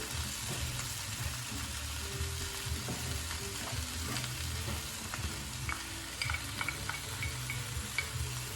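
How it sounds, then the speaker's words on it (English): Diced red onion and garlic sizzle in a pan for a curry alongside other browning food, a dense continuous crackle with occasional utensil taps and stirring, close and steady, with no talking. "while this is browning on this side, I'm just going to add the onions in there"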